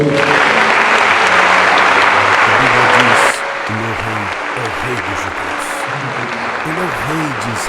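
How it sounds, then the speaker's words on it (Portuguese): Church congregation applauding during a preaching service on Jesus' resurrection, a loud, dense wash of clapping that cuts off partway, then gives way to a voice singing or preaching over softer crowd noise. "você pode aplaudir o Senhor"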